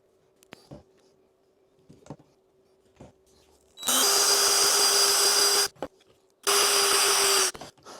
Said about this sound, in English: So when I'm drilling these holes, I'm not wrenching on it too hard